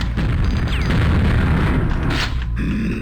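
A bomb goes off in a video game as a loud, sustained blast with rumbling debris that dies down abruptly near the end, close and dominant throughout.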